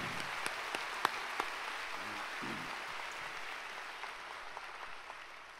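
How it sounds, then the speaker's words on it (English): A church congregation applauds a young adults' praise team after a special dawn service, soft and distant clapping with a few sharper individual claps standing out, fairly faint throughout. "Round of applause for the special praise."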